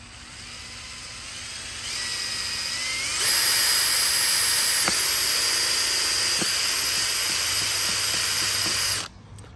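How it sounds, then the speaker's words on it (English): A power drill drilling into PVC pipe whines steadily, rising in pitch and intensity as it bites into material, running for several seconds before stopping abruptly. "drill my hole. I already have it marked."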